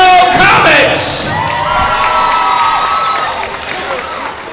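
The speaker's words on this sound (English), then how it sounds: "Let's wish both teams a round of applause" Crowd cheering, whooping and applause fill a high-school varsity men's basketball gym, loud and sustained, with shouts over the clapping and a public-address voice mixed in.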